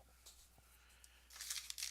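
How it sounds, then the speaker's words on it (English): Scissors cut open the plastic packaging of a Fitbit Inspire HR fitness tracker's charging cable. Faint, quiet snipping and crinkling build into a brief burst of tearing plastic at the end. "Let me get some scissors and cut that open."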